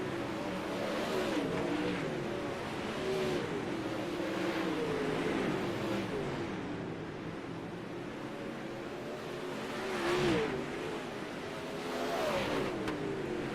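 Sprint cars racing on an oval dirt track during the last lap of a B main event, a steady distant engine roar that swells as the pack sweeps past, with no voices.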